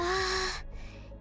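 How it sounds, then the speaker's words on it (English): A girl gives a short, breathy anime-style gasp in the game NIKKE, heard up close with a faint trailing breath as a sustained musical tone fades out beneath it. "You gotta get the anime gasping sound."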